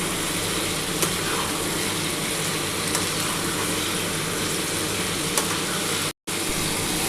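Masala spices with chilli powder frying in a pan, a steady close sizzle and hiss with a few faint clicks, broken by a brief dropout near the end.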